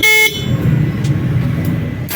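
Horn of a 2024 Monarch Spear 180 underbone motorcycle sounds one short, loud, bright honk at the start, then gives way to low background rumble.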